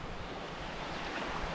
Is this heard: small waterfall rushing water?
yes